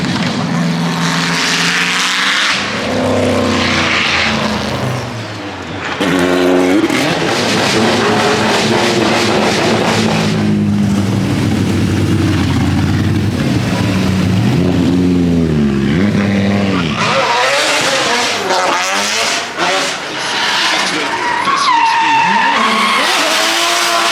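A McLaren F1 GTR Longtail race car at the Goodwood Festival of Speed, its engine roaring loud and close, rising and falling through gear changes with sweeping pitch shifts as it passes, some tyre squeal, running for about twenty-four seconds.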